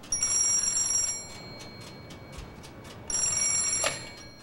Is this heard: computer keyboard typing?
no